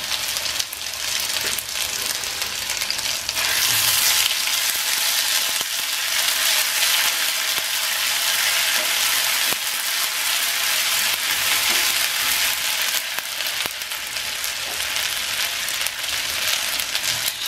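Ginger garlic paste hits fully melted butter and sets off a loud, dense sizzle that holds for the whole stretch, with occasional utensil knocks and stirring sounds cutting through the steady hiss.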